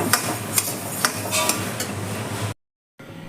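Grains for sambar powder roasting in an iron pan, with a sizzling rustle and periodic sharp metallic clinks of stirring, then a short silence before quieter pan sounds resume.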